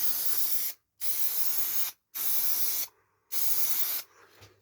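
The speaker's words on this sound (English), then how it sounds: "Contact adhesive, spray sprayer. Let me just do a piece and I'll show you." Contact adhesive sprayed from a sprayer in a dusty shed workshop, four sustained hissing bursts of about a second each separated by short gaps, loud and close, with a weaker sputtering spurt at the end.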